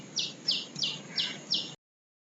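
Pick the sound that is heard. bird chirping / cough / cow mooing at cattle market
bird chirping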